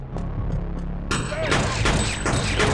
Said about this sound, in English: crouch and start shooting the 2 enemies in front of you